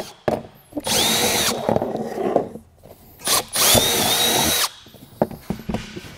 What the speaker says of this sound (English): Go ahead and drill that out.